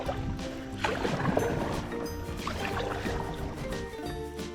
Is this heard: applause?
no